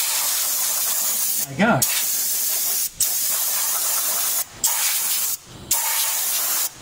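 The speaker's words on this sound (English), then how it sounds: "since I happen to have an air compressor, it's always nice to blow out" Compressed air from an air compressor hisses in several loud bursts, blowing oil out from around a car's spark plug hole during a misfire repair; a man briefly exclaims between blasts.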